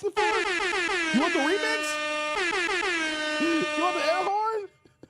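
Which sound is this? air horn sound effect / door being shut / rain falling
air horn sound effect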